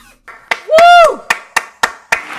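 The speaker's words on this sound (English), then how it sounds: "Get the fake applause button on there." A fake applause button sound effect played during a free music livestream: a handful of separate, sharp claps spaced out at a steady pace, with a rising and falling whoop-like tone sliding over the first ones.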